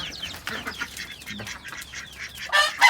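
Chickens clucking on a rooftop on a rainy morning, several close cackling and clucking calls in quick uneven bursts, with a louder flurry near the end and no talking.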